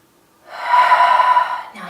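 A deep breath taken during a yoga and fitness session, one close, loud, airy inhale that starts abruptly, holds for about a second and cuts off, then a faint low voice begins.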